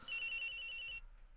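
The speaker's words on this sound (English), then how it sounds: "The ringing's coming from somewhere in here" Telephone ringing in the video game Ace Attorney Investigations, a single bright electronic ring lasting about a second and then stopping abruptly, clear and alone.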